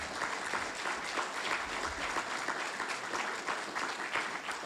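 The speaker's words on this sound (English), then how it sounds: "One more time, a round of applause," Steady applause from an audience at a fire department awards ceremony, a continuous wash of many hands clapping at even loudness throughout.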